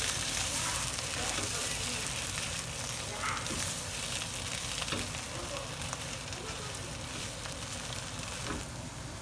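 Bitter melon roasting in oil in a pan gives a steady, soft sizzle and crackle throughout, with faint occasional stirring clicks and no talk.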